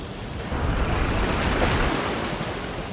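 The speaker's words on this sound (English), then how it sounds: "When the water comes in, it creates a pressure difference. You can see there's water that pops up through the rocks." Ocean waves surge through porous rocks on the shore at Puerto Limón, Costa Rica, a loud, close rush of water and spray that swells and then holds, with wind buffeting the microphone.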